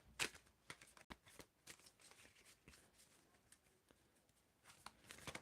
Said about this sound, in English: When do I need to stop shuffling?